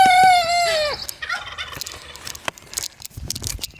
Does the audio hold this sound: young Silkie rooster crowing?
yes